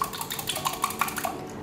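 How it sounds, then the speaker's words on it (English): Milk, egg and oil for blueberry pancakes are whisked together in a bowl, giving quick repeated clinks and scrapes of a whisk against the bowl at close range. "The first thing I'm going to do is just to whisk together the milk,"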